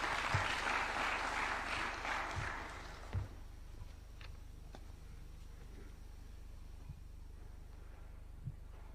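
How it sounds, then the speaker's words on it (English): Applause welcomes a minister of state for Francophonie and international partnerships at a university innovation park unveiling in Nairobi, loud and sustained for about three seconds, then fading to a quiet hall with a few faint thumps. "Why don't we welcome him with a warm clap?"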